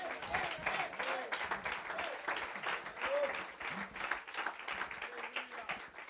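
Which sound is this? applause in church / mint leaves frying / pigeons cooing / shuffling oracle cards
applause in church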